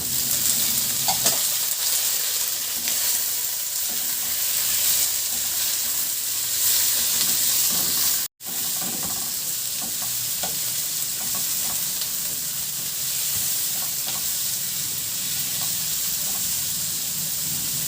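Sliced onion and tomato sauté in a hot pan with a loud, constant sizzle and hiss, broken by occasional stirring scrapes and one abrupt momentary dropout midway.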